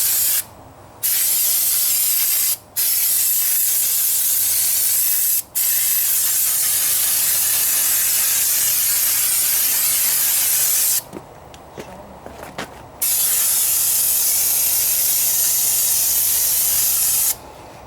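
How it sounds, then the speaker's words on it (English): Long bursts of brake cleaner spray hiss, loud and close, on the front brakes of a Mercury Villager or Nissan Quest, interrupted by a few short pauses and a longer gap near the end before spraying resumes. "we're going to spray this down with brake cleaner to get some of the brake fluid off"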